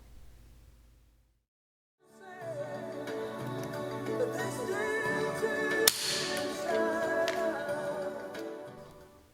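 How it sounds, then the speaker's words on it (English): A circlip snapping into place on a BMW M52 connecting rod during an engine rebuild gives a single sharp metallic click that rings on, close and clear, surrounded by faint metallic ringing and handling noise. "let you hear the sound of a circlip being injected"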